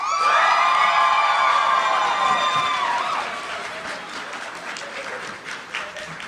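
A comedy show crowd votes for the other contestant with loud clapping, cheering and high whoops, strongest at the start, then settling into lighter applause that trails off.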